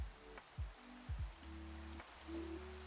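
Rain falls in the Minecraft video game as a soft, faint, steady patter, with a few gliding tonal game sounds drifting over it.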